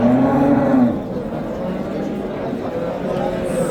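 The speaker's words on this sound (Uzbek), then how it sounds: "Sigir qator, sigir, katta sigirlar." A cow lets out a loud, close moo at the start of the clip amid a busy cattle market, with crowd chatter and general market bustle continuing underneath.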